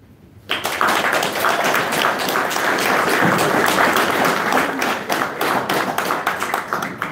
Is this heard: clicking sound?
no